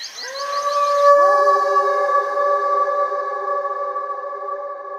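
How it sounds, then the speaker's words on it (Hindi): Several dogs howl together in long, drawn-out, overlapping tones, steady and fairly loud, with a faint echo and no talking. "रात में कुत्ते अजीब अजीब आवाजें निकालने लगते हैं"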